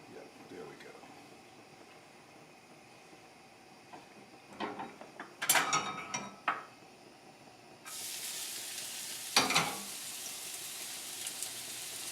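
A spatula scrapes the bottom of a pan of sizzling Swedish meatballs, making a few short rasping strokes close by over steady frying hiss. Someone talks now and then.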